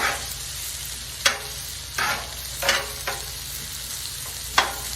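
Peppers and onions sizzle on a Blackstone griddle, a steady close frying hiss broken by several scraping strokes of a spatula stirring the vegetables.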